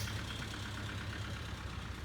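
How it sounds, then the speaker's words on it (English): A neighbor's car passes on a rural road beside an old orchard, making a brief, steady engine rumble and road noise that fill the short moment without voices. "neighbors driving by"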